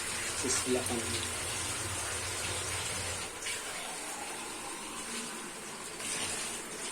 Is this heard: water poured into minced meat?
yes